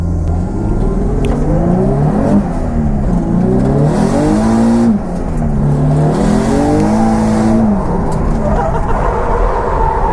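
Drift car engine revving hard through a competition run at a BDC Pro Am round at Teesside, its pitch climbing and dropping in repeated sweeps, loud and close throughout with a brief lull midway.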